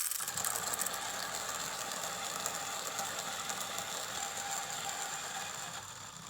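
A hand coffee grinder crunches through a handful of dense beans at a steady crank, giving a continuous close ratcheting, grinding rattle from start to finish.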